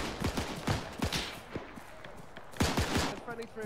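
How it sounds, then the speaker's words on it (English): Rapid machine gun fire pours down from a church tower in a D-Day-themed game at Pointe du Hoc, sharp bursts in quick runs with a pause midway, while voices call out over the shooting. "Machine gun fire from the church tower."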